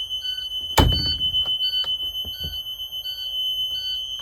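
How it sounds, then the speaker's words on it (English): A school bus emergency door alarm gives a steady high electronic tone that pulses continuously, with a loud door clunk near the start and faint knocks after it. "make sure the alarm sounds"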